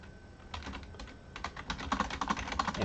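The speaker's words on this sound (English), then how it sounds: "And I figure we'll type it out." Rapid typing on a computer keyboard, a steady patter of close key clicks that grows denser and a little louder toward the end, with no voices.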